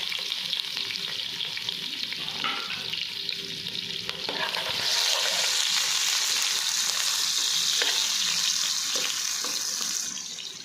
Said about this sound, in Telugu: ఇప్పుడు మనం కట్ చేసి ఉంచుకున్న ఆనియన్ పచ్చిమిర్చిని ఈ ఆయిల్లో వేసుకుని బాగా ఫ్రై చేసుకోవాలి